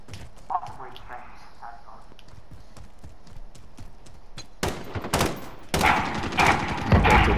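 Gunfire in the Call of Duty Modern Warfare video game: scattered, quieter shots at first, then loud, dense bursts of rapid fire near the end. A voice talks over the shooting.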